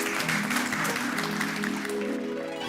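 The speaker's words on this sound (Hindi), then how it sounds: "उनके सम्मान में जोरदार तालियां" A crowd claps in honour of a chief guest at a neighbourhood gathering, dense, steady applause with a sustained tone underneath.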